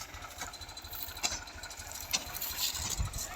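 A 2005 Fiat 480 tractor engine idles close by with a steady low chugging pulse and a few sharper knocks, with no voices.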